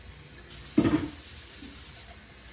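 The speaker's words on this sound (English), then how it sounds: "You're gonna hit it with that cold water." Cold tap water sprays onto chopped, halved potatoes in a kitchen, a steady hissing rush that starts abruptly, swells briefly with a louder splash, then runs on evenly until cut off.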